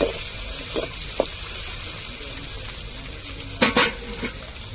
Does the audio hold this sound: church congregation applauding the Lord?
no